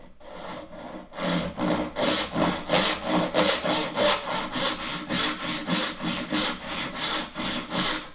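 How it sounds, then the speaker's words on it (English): A freshly sharpened hand saw cuts through wood in steady, even back-and-forth strokes, about two per second, close and clear with a rasping texture and no speech over it. "The main thing here is to just try that the saw is sawing correctly"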